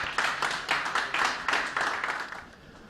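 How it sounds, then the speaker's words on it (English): A conference audience applauds a speaker being introduced, with a short burst of clapping in rhythmic swells that fades out near the end. "give a round of applause for Stefan, everybody"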